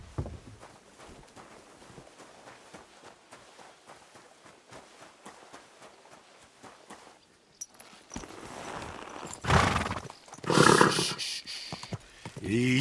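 A horse in the Kingdom Come Deliverance 2 video game, soft rhythmic hoofbeats at first, then louder neighing and snorting bursts near the end, close and clear.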